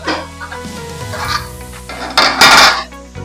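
A metal pot lid is lifted off a pot of beetroot cooking on the stove, giving clanks and scrapes followed by a brief sizzling hiss of steam, all loud and close.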